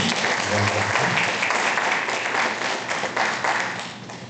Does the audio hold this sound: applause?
yes